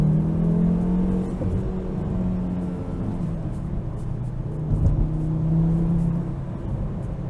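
Volvo S60R engine pulling hard under acceleration after a downshift: a steady, deep, rumbling drone heard from inside the car, rising and falling slightly and holding on throughout without pause.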